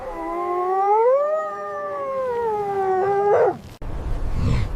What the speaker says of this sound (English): Large icy Arctic wolf.